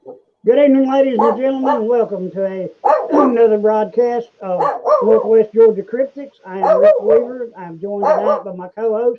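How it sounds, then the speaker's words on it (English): A dog barks in the background while a man introduces a broadcast, the barking mostly masked under his continuous speech. "as you can hear my dog in the background"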